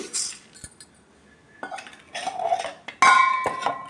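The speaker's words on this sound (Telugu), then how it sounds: "ఈ సగ్గు బియ్యాన్ని ఇలా ఒక గిన్నెలో పోసి" Sago pearls are poured into a bowl in a home kitchen, giving close bursts of rattling clatter and light clinks against the dish, with short quiet gaps between pours.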